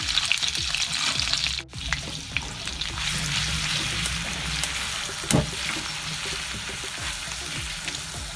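Butter and garlic fry in a pan of oil, a steady close crackling sizzle that runs throughout with a brief dip and occasional louder pops.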